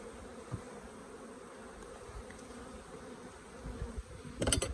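Honey bees buzz softly around an open hive, a faint continuous hum that swells louder in the last second.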